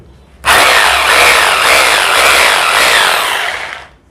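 Power drill boring a 3-inch-deep hole into a wall for an anchor fastener, a loud steady whine that starts abruptly and runs about three seconds before tapering off, heard alone and close.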